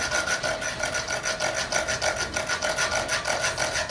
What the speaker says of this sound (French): Il prend ses dents, ses énormes dents, et essaie de briser les cordes du filet.